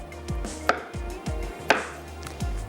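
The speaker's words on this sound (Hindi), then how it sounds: "थोड़ा सा स्लाइस कर लेते हैं ताकि इसको हमें पीसने में आसानी हो।" A knife slices through large garlic cloves on a cutting board, giving about half a dozen crisp, close chops in a steady rhythm with no voices.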